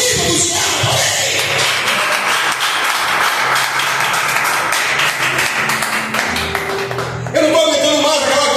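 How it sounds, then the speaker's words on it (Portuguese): A Baptist church congregation in Brazil breaks into loud, sustained clapping mixed with crowd cheers and shouts, dense and close throughout before a brief change near the end. "Aplauda essa palavra."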